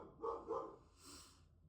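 A pet dog gives two quick, faint barks in a quiet room, followed by a softer trailing yip.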